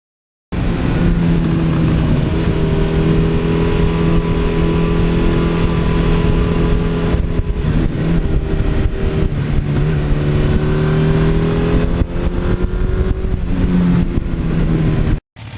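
A 1982 Suzuki GS1100E motorcycle with an air-cooled engine idles loudly and steadily nearby with a deep, even rumble, then blips through several short revs partway through before it cuts off.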